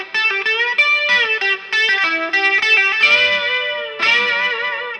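An overdriven electric guitar plays a lick, fast picked notes and bends with chorus-like shimmer, loud and close, ending in two sustained bent phrases, no voices.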